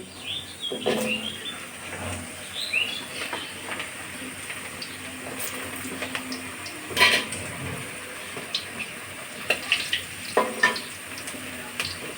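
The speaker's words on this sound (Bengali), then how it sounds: "কড়াইতে তেল দিয়ে দিয়েছি গরম হয়ে গেছে আর এখন আলুগুলো দিয়ে দিচ্ছি তেলের ভিতরে" Potatoes dropped into hot white oil in a wok, sizzling softly and steadily with scattered metal clinks of spatula and pan and occasional louder scrapes as they are stirred, close by.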